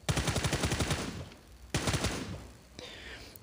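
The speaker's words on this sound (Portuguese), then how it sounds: "O som das armas é muito diferente aqui." Automatic gunfire in PUBG Mobile rattles off in a fast burst of rapid shots, pauses, then a second loud volley follows with a sharper crack, fairly close and with no talking over it.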